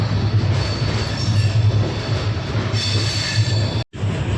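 A Mumbai local commuter train rumbling past close by, a loud continuous roar of wheels and carriages with a low steady drone and a brief cutoff near the end, no talk.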